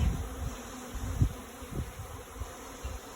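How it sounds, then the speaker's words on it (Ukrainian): A swarm of bees hanging in a tree buzzes in a low, continuous drone, fairly faint and steady, with a few louder swells as insects pass closer. "Це все бджоли."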